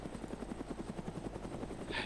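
A helicopter's rotor in the video game DayZ thumps with a rapid, steady rhythm under a low engine drone, faint and constant throughout, with a brief hiss near the end.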